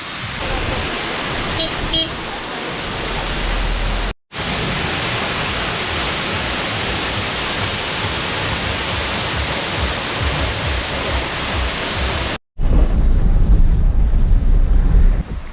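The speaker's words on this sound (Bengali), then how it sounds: "এই ওয়াটারফলস দেখুন বেশ অনেকটাই উপর থেকে কিন্তু ঝরে পড়ছে" A roaring, continuous rush of a tall waterfall in Meghalaya fills the scene, loud and broadband, broken by two brief cuts, with wind buffeting the microphone.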